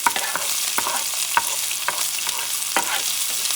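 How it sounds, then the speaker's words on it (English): Sofrito peppers with cilantro sizzling loudly in a pan as they are stirred, a constant bright frying hiss broken by regular scraping strokes of the spoon, close and without talk. "And I'm going to stir this up for a few seconds."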